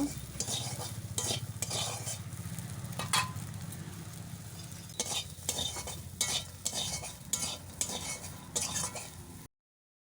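Soybeans frying with salt and turmeric powder in a pan, stirred with a utensil, giving close, repeated scraping strokes over a constant low sizzle.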